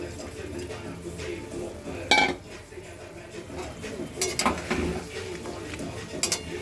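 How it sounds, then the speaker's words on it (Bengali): Chicken pakoras tip into a pan with a few sharp clanks of metal utensil against cookware, then scraping stirring sounds, close by, with music and a voice faintly in the background. "এই যে চিকেন পকোড়াগুলো আস্তে আস্তে করে ঢেলে দিলাম।"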